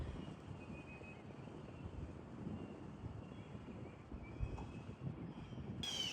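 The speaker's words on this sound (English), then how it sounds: "it's a little windy." Steady wind rumbles and buffets the microphone for several seconds on a walk near a ball field, a constant low roar outdoors with no voices.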